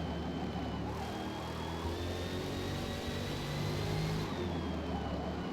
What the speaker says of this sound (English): Sounds like a V12 or something. A really nice high-revving V12.